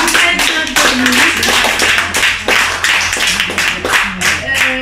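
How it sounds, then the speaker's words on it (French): Lively audience applause at a storytelling workshop show, with dense, sustained clapping from a room full of hands that swells and dips in waves for several seconds. "que l'on peut applaudir, bravo"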